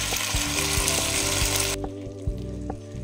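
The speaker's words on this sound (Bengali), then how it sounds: "এবার দেখুন সসটা আমি মিশিয়ে দেবো।" White sauce stirred into spiral and penne pasta in a pan gives a steady wet sizzle, with soft knocks and scrapes from a spoon. No one speaks.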